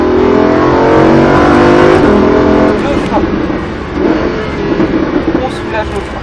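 A Lamborghini Huracan accelerates hard on a race circuit, its engine rising in a loud, close roar, then easing after braking before building again, with a driver talking over it.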